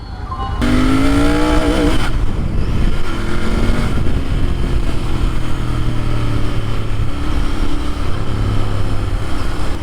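A 2020 Royal Enfield Interceptor 650 BS6 twin-cylinder motorcycle accelerates on a road. The loud engine note rises steadily through the gears with strong wind noise throughout.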